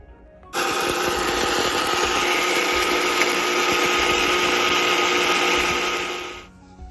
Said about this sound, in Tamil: நான் வந்து இந்த மிக்சி தான் எடுத்திருக்கேன் பவுட்ரு பண்ணுறதுக்கு